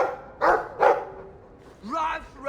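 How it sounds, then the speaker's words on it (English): A dog in the video game Dragon Age 2 gives two sharp, close barks in quick succession, followed after a pause by a higher, whining yelp. "I like the doggy."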